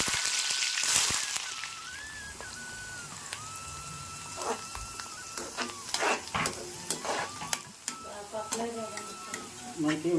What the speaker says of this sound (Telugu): ఆయిల్ అయితే బాగా మరిగిపోయింది కదా ఇప్పుడు మనం ఉల్లిపాయలు వేస్తాం